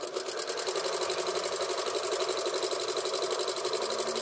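A sewing machine runs steadily, stitching closed the turning hole in a curved-corner baby blanket; a fast, even mechanical whir sounds close and loud throughout, with no talking.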